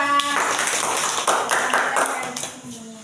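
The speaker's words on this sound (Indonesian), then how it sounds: "tepuk tangan untuk kelompok 2" Classroom applause for a student group during a teaching practice session, a dense burst of many hands clapping for about three seconds, fairly loud and steady, with some voices mixed in.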